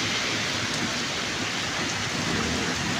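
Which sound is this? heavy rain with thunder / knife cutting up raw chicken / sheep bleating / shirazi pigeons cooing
heavy rain with thunder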